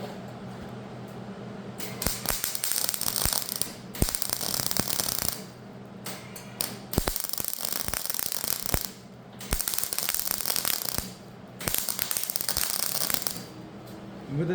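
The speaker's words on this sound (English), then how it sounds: "I like the spot weld and let it cool off so that you never get one spot overheated." MIG spot welding on thin sheet metal during a McCormick W6 tractor restoration, with loud crackling, buzzing bursts lasting several seconds each, broken by brief quiet gaps between welds.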